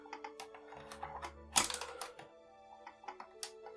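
Scissors cut through the plastic tags holding a Jurassic Park toy vehicle in its packaging, with a few small snips and clicks among faint rustling, quiet and close.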